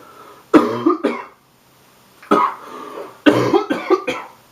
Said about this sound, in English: Nasty bit of a cough.